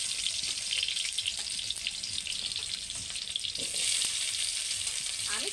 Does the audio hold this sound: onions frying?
yes